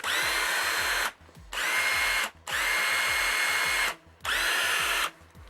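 A Tekhmann i20 series cordless drill running on a 6 Ah battery whirs loudly in four steady bursts, each lasting about a second or more, separated by brief pauses.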